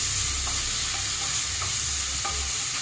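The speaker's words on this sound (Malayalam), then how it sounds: "ഇതൊന്ന് പയ്യെ വഴന്ന് കൊടുക്കുക" Chicken curry ingredients sauté in a pan, a constant close, bright sizzle with a few soft stirring scrapes and no talking.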